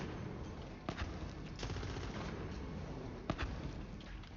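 Stubby Nasty Skeksil firing in Borderlands 3, a few sharp gunshot cracks and short bursts spaced irregularly over faint game ambience, fairly quiet overall.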